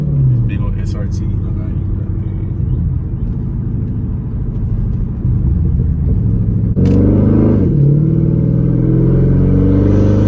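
A 2012 Dodge Charger SRT8 with loud exhaust gives a deep, close rumble that swells sharply partway through as the engine revs, with crackling pops.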